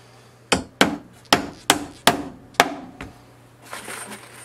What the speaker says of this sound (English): I tapped them with the hammer